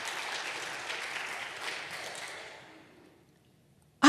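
A church congregation at a Sunday homecoming service claps together in a sustained burst. The clapping fades out and then silence follows, broken only by a sudden thump at the very end.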